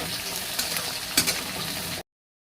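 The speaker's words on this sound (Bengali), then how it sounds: "এবার দিয়েছি পেঁয়াজ, এটা কিন্তু হালকা ভেজে নিব আমি পেঁয়াজটাকে।" Onions sizzling and crackling steadily in a hot pan, with a brief stir scrape partway through, then sudden silence.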